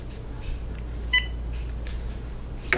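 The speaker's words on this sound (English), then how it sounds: "Definitely got a dial tone." Telephone line on a Magic Jack replacement device, with faint background hiss, a short electronic dialing beep near the middle and a brief click at the end, heard from a handset held near the microphone.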